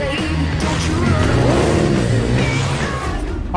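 A Harley-Davidson motorcycle engine revs loudly and close, its throaty drone rising and falling in pitch through the stretch before easing off near the end.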